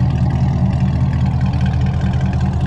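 A 2010–2013 fifth-generation Chevrolet Camaro SS V8 with quad exhaust tips idles with a deep, loud, steady, rumbling lope, close by and uninterrupted.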